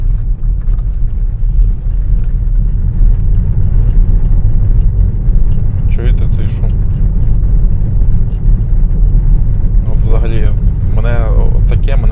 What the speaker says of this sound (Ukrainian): в салоні просто біда знаю, чути вам чи не чути. ну Всі сідушки брещать, все брещить.